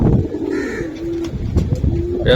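Giribaz high-flyer pigeons coo in soft, low murmuring phrases close by, broken by faint clicks and shuffling, with a brief higher chirp at the end.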